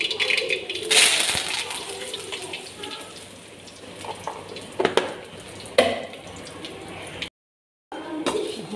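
Spices crackling and popping in hot oil while tempering idli, with brief sharp sizzling bursts over a low background hiss and a few clinks.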